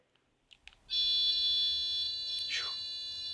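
Two smoke detectors in an old Indiana mansion shriek together in a loud, steady high-pitched tone, starting sharply after a few faint clicks. A brief voice cuts in partway through.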